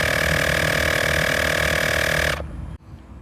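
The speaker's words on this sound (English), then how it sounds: "as you can see in here, it is now pumping the tire up." A Woowind Ventus Pro smart tire inflator pumps up a tire with a loud, steady, buzzing motor drone close by, then cuts off abruptly and leaves a short fading rattle and quiet.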